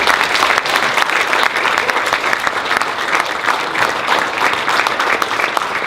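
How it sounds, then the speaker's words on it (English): Steady, dense applause from an audience fills the room after a closing panel talk, loud and sustained with no voices over it. "Can we get a huge round of applause for our YENA panel"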